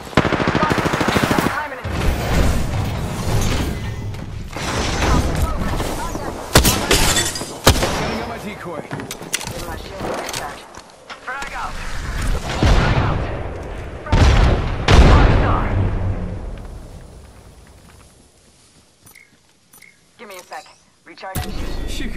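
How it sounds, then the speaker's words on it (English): Gunfire in a multiplayer shooter, the Mirage map: bursts of automatic fire and sharp shots come in dense clusters, loud and close, with a voice talking over much of it before the action thins out toward the end. "Opening fire."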